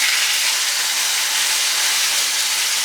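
A steak laid into a smoking-hot skillet sizzles with a steady, loud, bright hiss that holds evenly throughout, close by and without talk.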